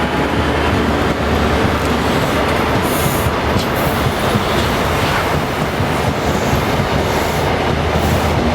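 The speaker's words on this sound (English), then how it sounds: "ScotRail HST, formed of 43146 and 43148, leave as empty stock to return to Haymarket Depot." A ScotRail HST pair of diesel power cars, 43146 and 43148, departs as empty stock, giving a loud, close, continuous roar of engines and rumbling wheels with faint metallic squeals.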